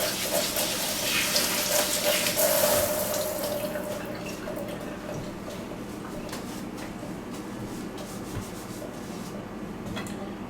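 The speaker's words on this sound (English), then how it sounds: "Let's go wash our hands." Hands being rubbed and rinsed under a running kitchen tap while a whole chicken is prepared, a steady close splash and rush of water with brief rubbing louder at the start, then settling into constant flow.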